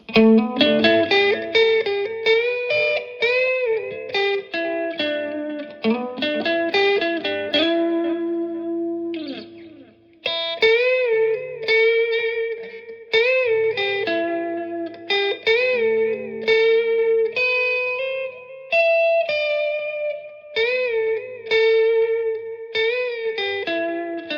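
A clean-toned electric guitar rings out loud and close through a Harley Benton Tube 15 amp on its clean channel, picking bright melodic notes and chords with a slight shimmering, echoing quality.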